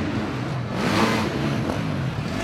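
An enduro motorcycle engine roars steadily during a SuperEndur Super Pole race in Poland in 2023, rising briefly as the bike is ridden hard, a loud continuous drone with no speech.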